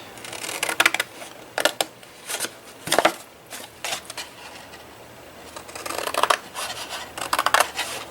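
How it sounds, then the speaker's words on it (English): Scissors cut paper along score lines for a lunch box gift, giving a series of close, crisp snips in uneven bursts, with quieter pauses between strokes. "So just cut on the score lines. Do the other side the same way."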